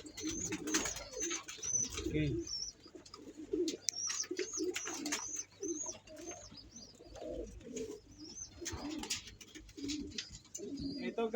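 In a pigeon loft, a flock of breeder pigeons keeps up steady low cooing for several seconds, calls overlapping with light chirps and a faint flutter of wings.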